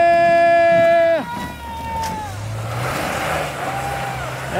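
Vehicle with partly deflated tires powering along a dirt track through snow, engine revving loud and close at first, then easing into a steady, more distant drone with wind noise.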